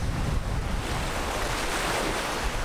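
Ocean surf on a sunny beach rushes steadily and loudly, a broad wash of breaking waves mixed with wind buffeting the microphone.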